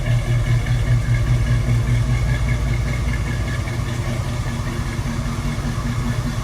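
The engine of a restored 1972 Chevrolet K5 Blazer runs steadily at idle, a close, loud, even rumble with a faint mechanical clatter, continuous throughout with no talk.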